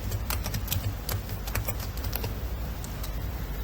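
Continuous computer keyboard typing while entering text in a document, with rapid irregular key clicks close to the microphone and steady low background hum, no voices.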